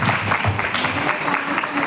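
An audience applauds loudly in a steady, dense wash of clapping that continues without a break, with faint crowd murmur beneath it.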